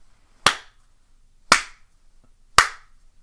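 Three sharp hand claps spaced about a second apart in an even, deliberate rhythm, loud and close against silence, with no talk.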